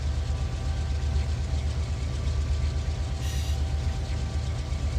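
A diesel locomotive in the Run 8 Train Simulator III game rumbling steadily, a continuous low, heavy engine drone under constant hiss with no pauses or talking.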